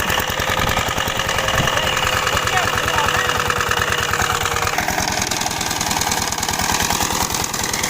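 A modified tracked farm tractor engine runs loud and steady with a rapid knocking idle throb and rattling vibration before plowing furrows for planting, its rhythm shifting slightly partway through, with a voice talking beneath the noise.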